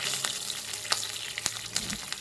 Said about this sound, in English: Let's now fry the flip side for 2 minutes.